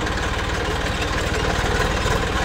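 An Eicher 380 Super DI tractor engine idles steadily and loudly up close, a continuous rough diesel chug with a dense low throb and no speech.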